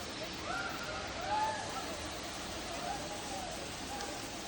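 Waterfall at B Fall in Pachmarhi, a faint, steady wash of falling water heard from a distance, with soft surges and faint tonal chirps drifting over the broadband rush.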